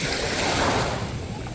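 Surf at high tide washes in continuously at a beach campsite, a close, loud churn of breaking waves with wind noise over the microphone.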